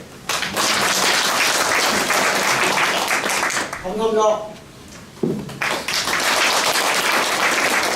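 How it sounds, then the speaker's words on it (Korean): Audience applauding the county governor at a town-hall meeting, a sustained burst of clapping that breaks briefly while a voice speaks, then resumes just as dense and loud. "우리 군수님 고맙다는 박수 한번 쳐주세요"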